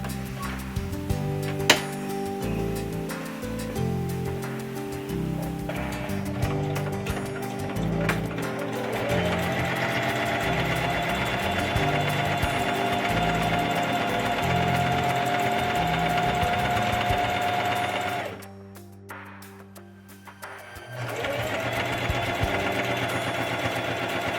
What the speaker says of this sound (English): when you're stitching, make sure you stitch close to the edge